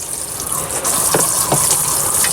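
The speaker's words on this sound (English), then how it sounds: "let me try to fill it up with some water." Water rushes and gushes steadily into the tub of a portable mini washing machine, loud and continuous with a hissy, splashing texture and no talk.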